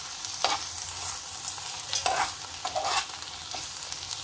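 Cumin seeds fry in a pan of oil with a soft steady sizzle, while a spoon scrapes and stirs in several distinct strokes nearby, no voices.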